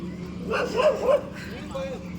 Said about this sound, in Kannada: ಭೈರವನ ವಾಹನ ನಾಯಿಗಳು